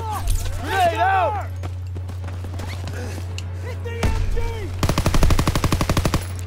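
A machine gun fires a fast rattling burst in the Call of Duty WW2 D-Day beach landing, loud and close. It comes after shouted voices and a steady low hum, with battle noise running underneath.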